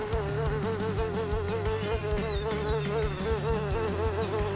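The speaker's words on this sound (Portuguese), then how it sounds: "Moscas!" A dense swarm of flies buzzes loudly and continuously, wavering drone tones layered over a steady mechanical hum with rhythmic low thumps beneath, no voices.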